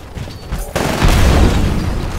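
A satchel charge detonates in the video game Titanfall, a sudden deep boom at about three-quarters of a second that swells into a loud, rumbling low blast lasting over a second before tailing off under steady game noise.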